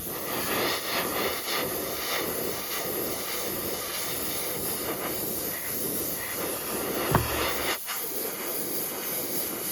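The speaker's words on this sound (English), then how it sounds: "It is spraying quite nicely." A steady, close airy hiss of an airbrush spraying thinned acrylic paint on a model Spitfire runs throughout, with a brief knock near the end.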